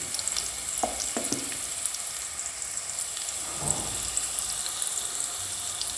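Carrots frying in a pan for palak pulao, a faint continuous sizzle with a couple of soft stirring scrapes early and midway, no voices.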